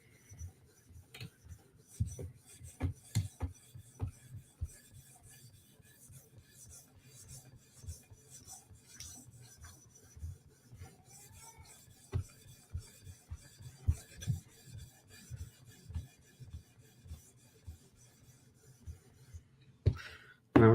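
A knife edge is drawn across a high-grit sharpening stone in a polishing pass, giving a string of soft, close rubbing strokes in an uneven rhythm, with a sharper knock at the very end.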